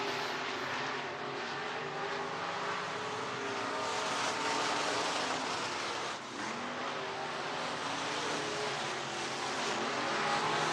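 Race cars circle the Boone Speedway dirt track in Boone, Iowa, their engines a continuous, loud, droning roar from several cars at once with no pause.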